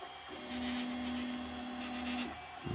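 A 3D printer printing a baking powder submarine gives a steady, moderately quiet motor whine that holds for most of the moment, with softer mechanical shuffling before and a brief burst at the end.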